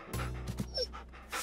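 A dog pants steadily close by, with quiet room noise around it.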